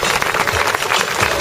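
Loud, close applause from an audience honoring jury members at a music awards event, a thick continuous patter of many hands clapping with no talk over it.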